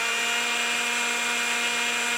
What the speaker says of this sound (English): If I rotate this thing back on slow speed on my drill